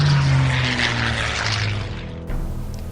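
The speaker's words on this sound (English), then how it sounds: "the first wave of 70 Hellcat fighter planes approached the outer reef of Truk Lagoon" Steady, loud roar of World War II Hellcat fighter plane propeller engines approaching, a dense sustained drone that shifts in tone partway through with no voices present.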